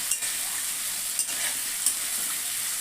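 Ginger, garlic, onion, green chili, tomato and fresh turmeric fry in oil with a steady, bright sizzle close by, interrupted by three quick scrapes of a spoon stirring the mixture, no voices.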